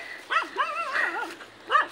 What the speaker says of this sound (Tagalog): May aso yun.